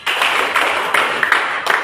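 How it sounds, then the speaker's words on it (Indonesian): Classroom of students clapping together, a dense burst of overlapping hand claps with a few stronger accents, loud and close. "Tepuk tangan kita semua."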